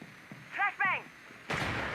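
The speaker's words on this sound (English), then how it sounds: "Flashbang." A flashbang stun grenade goes off in Rainbow Six Mobile as a sharp, loud burst followed by a sustained ringing hiss, preceded by brief tonal game sounds and faint voice.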